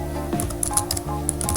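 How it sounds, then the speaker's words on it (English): Typing on a computer keyboard while entering a site name during a WordPress setup, with a quick run of soft, close clicks under a steady background hum. "give your website a name by typing the name here"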